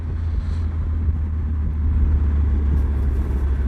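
A Triumph Tiger 1200 motorcycle on a country road gives a steady, loud low engine rumble with continuous wind noise, rising slightly in strength partway through, with no talking.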